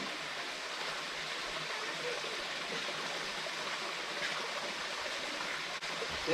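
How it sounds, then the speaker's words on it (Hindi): A small waterfall near the Bhaje Caves by Lonavala rushes and splashes in a steady, even wash of falling water, close by and with no talking. "यहाँ से छोटा सा वाटरफॉल गिर रहा है"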